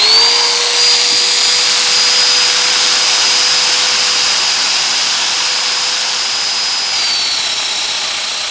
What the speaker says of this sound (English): we'll get that domino machine out and we'll start doing the fit up